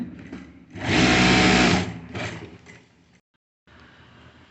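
An electric sewing machine stitches the belt of a formal pant in a loud, close, whirring run of about a second. A couple of shorter bursts follow, then the motor goes silent.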